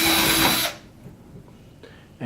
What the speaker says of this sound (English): So we'll drill through